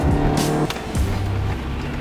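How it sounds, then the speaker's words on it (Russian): A car speeds past close by with a loud rising then falling engine rush and brief tire noise, while another engine hums steadily underneath. "А что за машина пролетела?"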